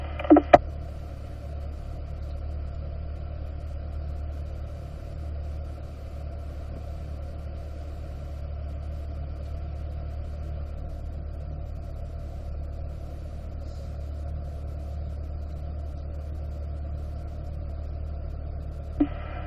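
Cars stopped in park on a race track, idling as a steady low engine hum that holds for the whole stretch, with a couple of brief clicks at the start and a faint one at the end, no talking.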